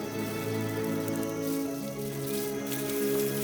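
Rain falls on the African plains as a steady, dense patter on the ground, moderately loud and continuous with no voices.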